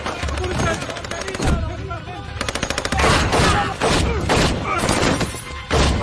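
An action film shootout carries rapid bursts of gunfire and single loud shots in quick succession, close and loud, with crowd noise and commotion mixed in.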